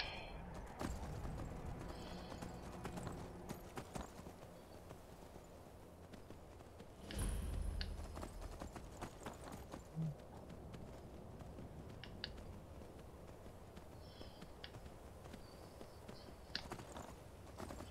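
Steady clip-clop of hooves at a brisk gallop pace in Skyrim, continuous throughout, with a brief louder thump partway and soft background ambience.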